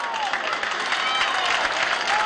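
Football supporters of Pro Patria clap across a stadium in a dense, steady wash of applause, with crowd noise blended in throughout.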